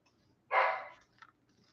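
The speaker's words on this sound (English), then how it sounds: "I don't know if you guys heard the other dog bark" A single dog's bark sounds once from a distance, a short burst followed by a fainter yelp, against a quiet background.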